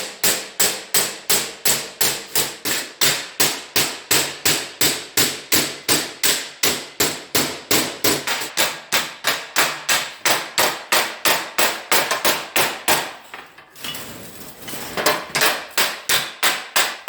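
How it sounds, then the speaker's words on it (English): Sheet metal is hammer-formed over the edge of a makeshift brake clamped onto a homemade bead roller, giving steady, evenly spaced loud metallic blows, about three per second, with a brief pause near the end before the strikes resume. "I'm going to hammer form that over that edge there"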